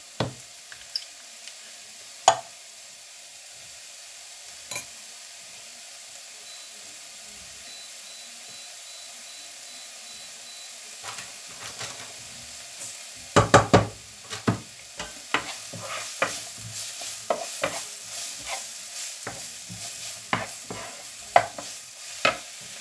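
Basmati rice heating in oil and a knob of butter in a pan, a low quiet sizzle at first, then clusters of sharper crackles and spoon scrapes building in the second half.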